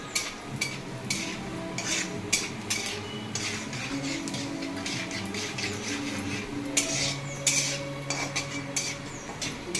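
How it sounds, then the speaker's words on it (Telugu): Cumin seeds fry in hot oil, giving a busy crackle and sizzle. Frequent sharp clinks of a spoon against the pan come through a steady background hiss, with no talk. "జీలకర్ర వేగిపోయింది."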